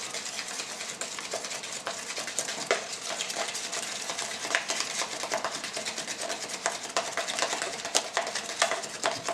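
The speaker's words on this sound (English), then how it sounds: "So mix this together." Continuous scraping and swishing of a brush or whisk stirring hair bleach powder into developer in a bowl, steady and close with small clinks against the bowl, no talking.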